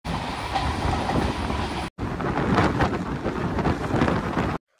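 Bongaon–Ranaghat local train pulling away, a loud, steady rumbling roar of wheels and carriages heard from aboard, briefly cut off midway, then resuming before ending abruptly.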